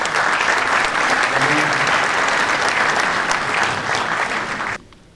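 Audience at the Victoires de l'Automobile awards ceremony applauding, dense sustained clapping from a large crowd that cuts off abruptly near the end.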